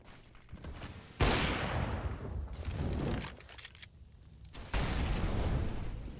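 Pistol fire in a CS:GO esports match, several sharp booming shots with rumbling decay, spaced apart and heard without speech.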